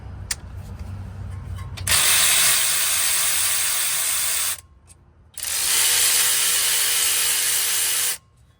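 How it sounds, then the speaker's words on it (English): An electric ratchet loosens the brake caliper bolts on a 2014 Subaru Outback 2.5 Premium. It gives two loud, close whirring bursts of a few seconds each, separated by a short pause, after a quiet start. "then I'll hit them with the electric ratchet"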